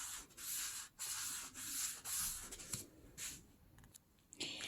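Paper edges for a handmade vintage journal rubbed and sanded to distress them: close, steady scratchy rasping in bursts of strokes with brief pauses, alone.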